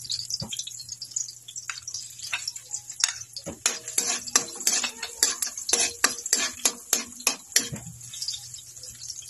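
Baguio beans with egg are sautéed in a pan, a fast run of metal spatula clacks and scrapes over a light sizzle, close and fairly loud with no talk over it.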